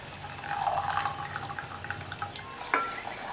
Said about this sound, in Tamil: இது கூட வடிகட்டி வச்ச வெள்ளைக்கரைசல் சேர்த்துடலாம்.